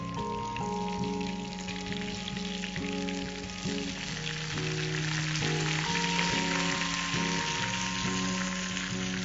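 Mustard seeds, urad dal and curry leaves frying in hot oil, a dense continuous sizzle with crackling, steady and fairly quiet, with no talking.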